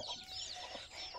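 Chickens cluck and murmur close by as they are readied for transport to buyers, a steady run of short fowl calls with no talk.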